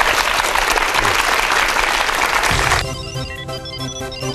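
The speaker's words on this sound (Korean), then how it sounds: "큰 박수로 청해 듣겠습니다" Studio audience applause at a Korean TV lecture program, dense and steady clapping for about two and a half seconds before it gives way to a musical intro.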